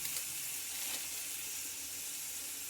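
Spices and turmeric sizzle in hot oil in a pan for a chicken curry, a steady close hiss with faint stirring and no voices.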